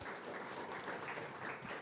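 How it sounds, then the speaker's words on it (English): An audience in a building applauds during a Starknet Basecamp session, with a steady, dense wash of clapping that holds fairly even throughout at a faint, distant level, with no talking. "I would like everybody to clap to 42 Blockchain for hosting us"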